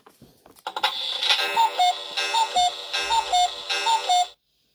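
A clock in a children's hidden-object video game gives a loud, steady electronic alarm-like ringing with a repeating two-tone beep pattern that runs for about four seconds, then stops abruptly.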